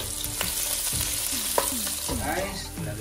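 Onions sauté in a pan, a constant crackling sizzle with intermittent scraping stirs from a utensil close by, no speech.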